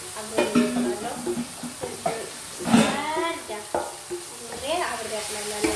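Spices frying for an Arab-style biryani, stirred in a pan with repeated scraping strokes and soft sizzling, moderately close, with brief bursts of stirring.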